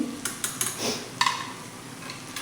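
Spoon stirring mixed-dal amti in a pot after water is added, making a few quick clinks and scrapes against the metal, close and fairly quiet, with no voices.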